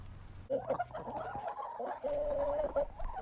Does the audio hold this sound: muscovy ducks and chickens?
yes